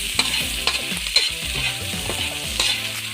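Onions sauté in a hot pan for sarciadong salmon, with a continuous sizzle and a few quick clinks and scrapes from stirring close by.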